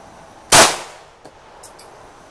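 A single loud, sharp shot strikes a steel target at a shooting setup, followed by a faint metallic tick and two light clinks as the target settles.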